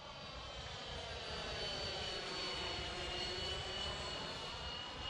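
A Freewing F-14 electric ducted-fan RC jet passes overhead. It makes a steady, loud whooshing roar with a high whine that stays even as the throttle is eased back a little. No talking is heard.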